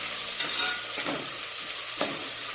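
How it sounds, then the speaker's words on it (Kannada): Onions fry in a pan for tomato bath with a constant close hiss and sizzle, broken by a few soft stirring scrapes; no voices. "ನೋಡಿ, ಈರುಳ್ಳಿ ಇವಾಗ ಬ್ರೌನ್ ಕಲರ್ ಬರೋ ತನಕ ನೀಟಾಗಿ ರೋಸ್ಟ್ ಮಾಡ್ಕೊಳ್ಳೋಣ."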